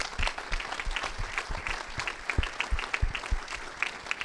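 An audience applauds during a film festival Q&A at VIFF 2016, steady, dense clapping from a crowd in a hall, moderately loud and continuous with no talking over it.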